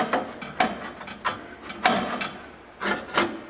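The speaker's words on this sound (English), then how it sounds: "let me slide this, I can, right into the muffler" Exhaust pipe on a 2000-06 Toyota Tundra 4.7L slid into a Flowmaster muffler, giving several short scraping metal-on-metal rubs in uneven bursts, close and moderately loud, with no speech.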